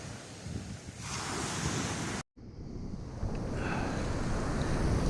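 Surf rolls in steadily on a North Norfolk shingle beach at Salthouse as the tide comes in fast, a broad continuous wash of breaking waves mixed with gusty wind buffeting the microphone, broken by a brief dropout midway.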